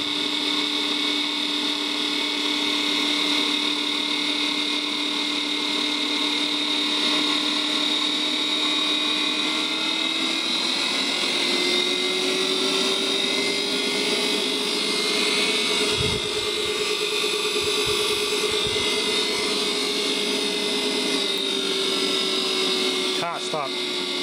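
McColl electric motor driven by a VFD, running with a loud, steady whine and layered tonal hum that shifts upward partway through, then holds, with a brief low thump near the end.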